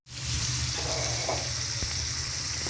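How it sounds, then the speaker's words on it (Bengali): Boiled jackfruit pieces drop into hot white oil, starting a loud, sudden sizzle that continues as a steady, close frying hiss. "গরম তেলের মধ্যে আমি সেদ্ধ করা এঁচোড়গুলো ছেড়ে দিচ্ছি।"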